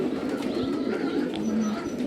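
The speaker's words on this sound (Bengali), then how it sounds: "এখানে শত শত কবুতর আছে।" Hundreds of pigeons coo together inside a pigeon room in Qatar, a dense, steady chorus of low, overlapping throaty calls with no break.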